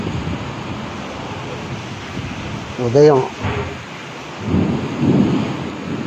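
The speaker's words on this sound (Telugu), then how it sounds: "అసలు మామూలుగా లేదు వర్షం. ఎంత జల్లు పడుతుంది." Heavy morning rain in Vijayawada pours down as a steady hiss, with low thunder rumbling in the background. A voice briefly speaks partway through.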